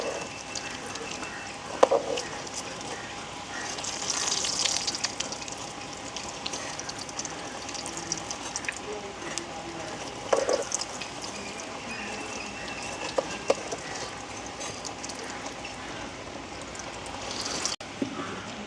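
Dried red chillies fry in oil with a steady, rain-like crackle and scattered pops that run through the whole stretch, with speech at times.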